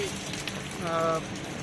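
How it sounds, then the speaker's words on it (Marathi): Heavy rain falls at Azad Maidan during a protest, a soft, steady wash of hiss throughout, with a voice briefly heard partway through. "खूप मोठ्या प्रमाणात पाऊस सुरू आहे"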